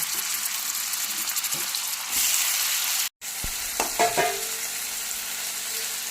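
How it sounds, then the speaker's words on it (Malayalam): Cauliflower pieces shallow frying in a pan of hot oil give a steady, fairly loud sizzle with a brief silent break midway and a few faint clinks of utensils. "ഷാളോ ഫ്രൈ ചെയ്തെടുക്കാം. അപ്പോൾ ഒരു തവണ ഞാൻ ഫ്രൈ ചെയ്ത് കോരി ഇനി അടുത്ത ഇട്ട് കൊടുക്കുക"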